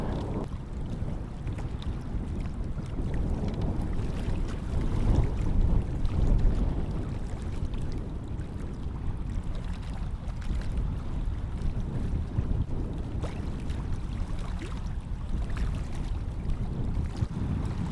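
Choppy water slaps against a canoe on Diamond Lake as it is paddled through whitecaps, under constant loud wind buffeting the microphone, a continuous rough, low rumble with no talking.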